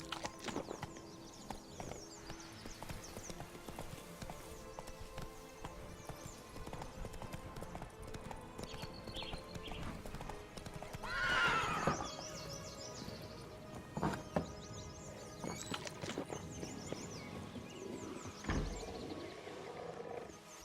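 A horse galloping in a video game, a steady close clip-clop of hooves running through the whole stretch, with a brief louder swell and a few snorts and game sounds mixed in, no talk over it.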